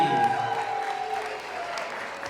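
Wedding guests at a walima reception at Whites Ferry Manor clap together in steady, dense applause that carries on through the whole moment at a moderate level, with a faint sustained tone running underneath.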